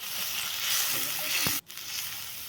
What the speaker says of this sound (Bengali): তো তারপর জল দিয়ে দিচ্ছি।